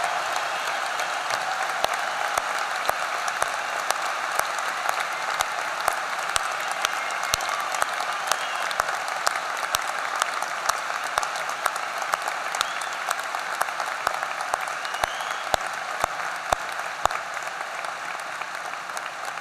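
Sustained applause at a Towson University commencement ceremony as military personnel and veterans stand to be honoured; a large crowd claps steadily and evenly throughout, with sharp individual claps standing out against the roar.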